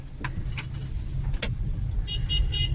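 A car engine idles with a low, steady rumble close by, stopped on a road under construction, broken by a few brief clicks and a short thump.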